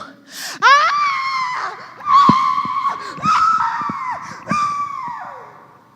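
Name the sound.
preacher imitating Esau's anguished screaming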